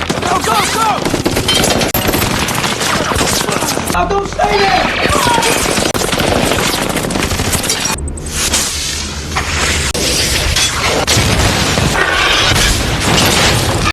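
Dense, continuous barrage of booming blasts and rapid gunfire, loud and chaotic throughout, with brief dips before the bursts resume, and voices mixed underneath.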